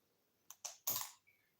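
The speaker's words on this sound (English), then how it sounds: "I want to see if these" Scissors snipping through fishing line while a reel is being prepped, giving three quick close clicks in succession with the last cut sharpest and loudest, followed by a faint short squeak.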